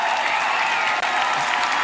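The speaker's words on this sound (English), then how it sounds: "You see people cheering" A crowd cheers and claps at a political rally, a steady wash of applause heard from some distance with a brief dip near the middle.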